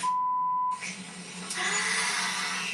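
A dying phone battery triggers a steady high electronic beep, which cuts off into shifting hiss and whine with a faint hum underneath.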